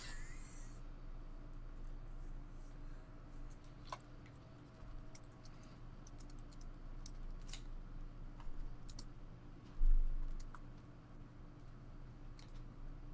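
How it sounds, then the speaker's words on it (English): Faint, scattered clicks of typing on a computer keyboard, irregular taps spread through a steady low background hum, quiet and close. "He's typing it out."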